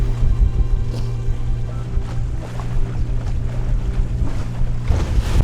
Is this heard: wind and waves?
yes